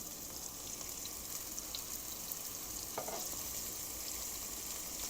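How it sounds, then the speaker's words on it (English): Scallops sear in olive oil in a Vinchef sauté pan with a steady, close sizzle that holds constant, fairly quiet and broken by a few small pops. "We're going to go in with our scallops. Just want to sear these off a little bit."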